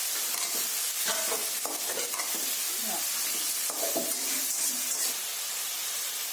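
Crushed small onions sizzle and fry in hot oil with curry leaves in a pan, a steady close crackle with stirring scrapes throughout, no voices.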